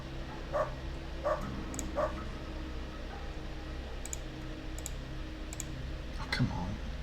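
A dog in the video game Underrail barks several times in short, evenly spaced yelps, moderately loud over steady background hum and mouse or keyboard clicks, while a person talks.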